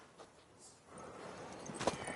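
A mare's hooves clop softly on the ground in the video game The Witcher 3, a few faint, brief steps growing slightly louder near the end.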